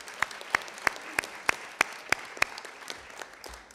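Soft audience applause at a community event hosted at Dominican University, with a handful of distinct, evenly spaced claps standing out over a faint background wash.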